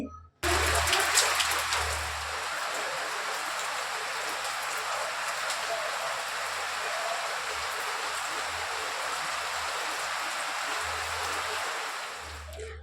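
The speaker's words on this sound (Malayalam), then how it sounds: "പുറത്തൊക്കെ നല്ല മഴ പെയ്തുകൊണ്ടിരിക്കുക കേട്ടോ ശക്തിയായിട്ടുള്ള മഴ" Heavy rain pours steadily outside, a dense continuous hiss of drops drumming on surfaces without letting up.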